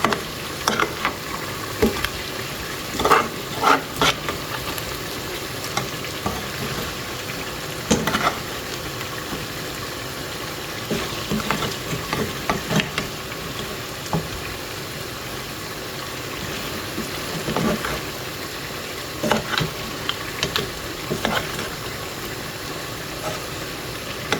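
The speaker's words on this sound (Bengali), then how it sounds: "নাড়াচাড়া করে নিই হালকা হাতে অল্প নাড়াচাড়া করে রেখে দিব" Food stirred in a frying pan for a home-cooked Bengali meal, a steady sizzle of frying running throughout with intermittent scraping stirs, close and moderately loud, no voices.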